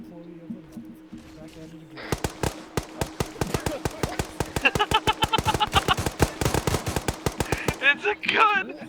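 A loud video game gunfight during a duel in ArmA: after a quiet opening, a long run of sharp evenly spaced shots bursts out at close range and ends with voices shouting.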